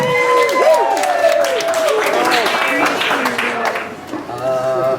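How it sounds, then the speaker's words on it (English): Audience gives a round of applause, clapping and some cheering, heard under lively crowd voices and excited calls that carry on, dipping briefly before picking up again. "Let's give Harry a round of applause, please."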